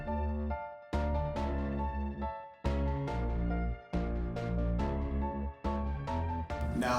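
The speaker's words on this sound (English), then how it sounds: "the first sound I picked here was from Labs. It's a free sound. It's this string sounding synth here" A free string-sounding synth from Labs plays sustained chords, each one struck and held for about a second or two before the next, in a clear, close, unaccompanied phrase.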